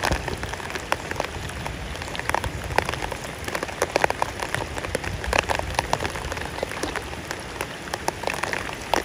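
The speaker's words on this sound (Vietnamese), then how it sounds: "Mà chắc mưa một xíu à." Rain falling outdoors during a wet-season downpour, a dense steady patter of drops hitting surfaces, with no voices.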